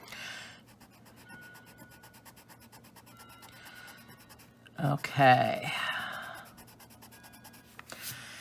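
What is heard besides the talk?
Faber-Castell Perfection eraser white end erasing colored pencil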